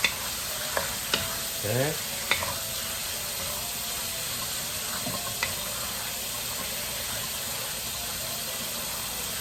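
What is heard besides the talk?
chicken vegetable stir-fry sizzling in the pan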